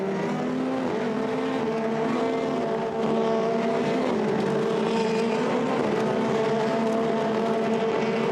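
Formula Renault 2.0 race cars at Monza run in a line toward the Curva Grande, a steady loud multi-car engine drone with overlapping harmonic whines holding throughout, no speech.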